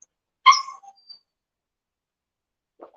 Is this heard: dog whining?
yes